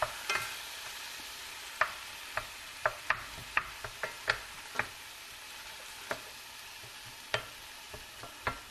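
Ground beef sears in a skillet with a soft, continuous sizzle, punctuated by sharp spatula clicks and scrapes at an irregular pace.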